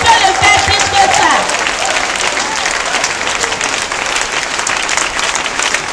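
A church congregation applauds and acclaims loudly, a dense sustained roar of clapping and raised voices that stays strong throughout, with some vocal shouts mixed in near the beginning.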